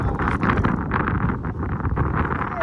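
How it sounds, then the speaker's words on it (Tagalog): Steady roaring wind buffets the microphone throughout while fishing on an island shore, a dense broadband rush with gusty fluctuations and no clear voices. "Malakas yung hangin."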